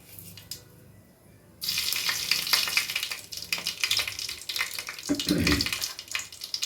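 Mustard seeds dropped into hot oil for egg masala rice set off a sudden, loud, steady sizzling hiss after a quiet moment, crackling on close by with no talk.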